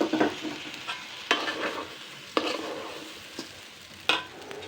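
Stirring and frying in a kadai with potatoes and meat in oil, the utensil scraping the pan bottom in several sharp strokes over a steady low sizzle.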